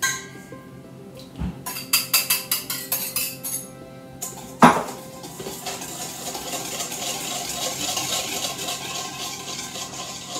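A utensil clinks rhythmically against a bowl while mixing batter for a frozen Christmas yule log, with a quick run of sharp taps followed by a softer, continuous scraping and stirring.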